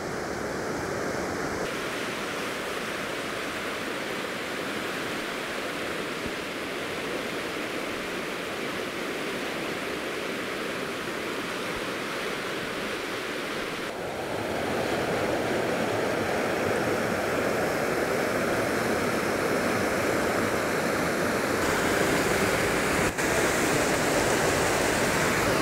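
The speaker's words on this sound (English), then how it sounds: "this river is cut in a really deep gorge" The Afon Glaslyn rushing through a deep gorge in the Aberglaslyn Pass: a steady broadband roar of flowing water that swells louder partway through, with no voices.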